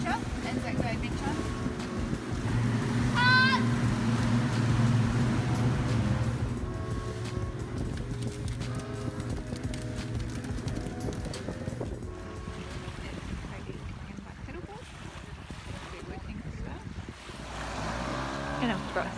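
A boat crosses open water toward Waiheke Island, with a continuous engine rumble, wash and wind buffeting the microphone, while voices talk over it through much of the ride.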